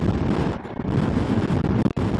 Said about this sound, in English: Just a bit windy.